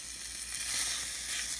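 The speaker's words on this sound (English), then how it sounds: "This is good, tasty bacon. You are sizzling." Bacon fries in a hot pan with a continuous bright crackling sizzle, steady and close, with no voices.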